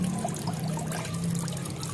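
Water trickling and pouring as it drains from an opened container of homemade biodiesel made from used cooking oil, a steady close dribble with no talk over it.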